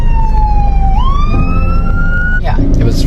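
A fire engine siren wails loud and close as the engine rushes past during the Lahaina, Maui wildfire evacuation, its tone sweeping upward and then cutting off near the end amid road noise.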